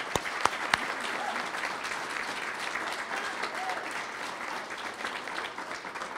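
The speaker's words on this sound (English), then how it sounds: "So I'd just like a quick round of applause for everybody who has helped out." A school hall of fame ceremony audience gives a round of applause for booster volunteers, with steady mid-level clapping from a crowd that opens with a few sharp claps and fades slightly toward the end.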